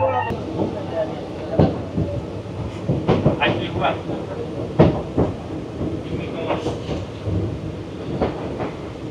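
The Samaleswari Express rumbles along the tracks near Nabagram Kakurhati halt, with steady low rolling noise and periodic clunks and rattles from the carriages.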